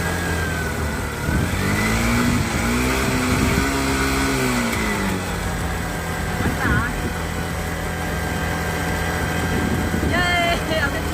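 A modified motorbike engine revving hard, rising and falling in pitch through several throttle blips over a steady loud idle, with people talking nearby.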